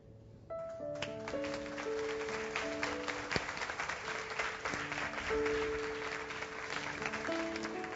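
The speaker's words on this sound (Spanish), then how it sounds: "El aplauso es para Dios." A church congregation claps during a service after a prayer, sustained applause mixed with sustained keyboard or organ notes playing underneath, moderately distant and steady.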